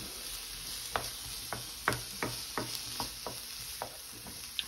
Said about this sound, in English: I'll give that a quick stir if I can get a spoon.